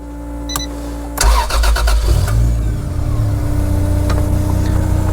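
The engine of a Mercedes W124 swapped to a 2JZ cranks and fires up, catching with a loud rumble after about a second, then settling into a steady, close idle with a few mechanical clicks.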